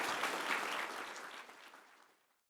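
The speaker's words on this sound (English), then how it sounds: "give a round of applause to our wonderful panelists" Audience at an industry panel event claps for the panelists, a moderate round of applause that starts full and then fades away to silence within a couple of seconds.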